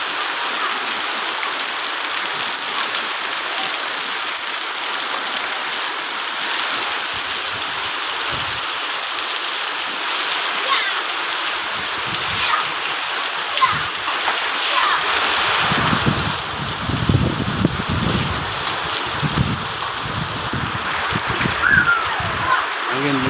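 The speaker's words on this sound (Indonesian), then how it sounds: "Sampai lebat lah kawan-kawan hujan ya." Heavy rain pours down in a village, a dense, steady hiss of water on roofs and ground that swells louder midway with splashing runoff, while a voice talks intermittently over it.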